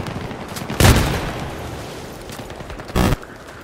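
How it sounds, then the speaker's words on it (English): Missiles and gunfire in the Battlefield 3 video game: two sharp, loud blasts about two seconds apart, each a short burst standing out over a steady bed of battlefield noise. "Where are those missiles coming from?"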